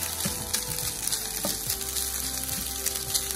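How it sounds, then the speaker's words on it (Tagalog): Leftover brown rice sizzles and crackles in a hot pan, a steady close frying hiss with small pops and the occasional scrape of stirring. "Painitin muna natin yung brown rice."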